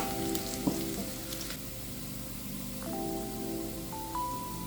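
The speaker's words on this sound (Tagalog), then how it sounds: "Cooking oil sa mainit na kaserola. At ilalagay natin ang bawang hanggang sa maging golden brown." Steady sizzling of garlic frying in hot cooking oil in a casserole pot, a constant crackling hiss with a couple of brief clinks, fairly close and no talking.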